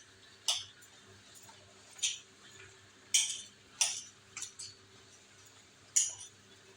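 A spoon clinks against a bowl while mixing, making sharp, bright taps spaced irregularly over several seconds, a few close together, with quiet room hum between them.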